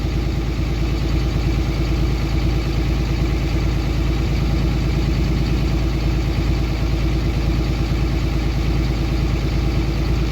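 Cummins diesel engine idling with the idle raised, a close, loud, steady rhythmic clatter and low rumble running unchanged throughout, no voices.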